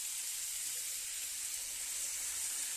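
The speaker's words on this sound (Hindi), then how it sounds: "अब हम इसमें लहसुन और अदरक का पेस्ट डाल देंगे।" Garlic and ginger paste sizzling in a hot pan while cooking pasta, a steady, dense hiss of frying that holds at an even level throughout with no talking.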